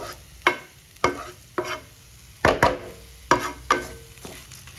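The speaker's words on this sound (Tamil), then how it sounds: "ஒரு 3 பண்டான் லீஃபை நான் முடிச்சு போட்டு இதிலே போட்டு இதையும் சேர்த்து நான் ஃப்ரை பண்ணுறேன்." Knotted pandan leaves fry lightly in a pan, with a series of distinct scraping stir strokes over a soft sizzle, heard close and alone.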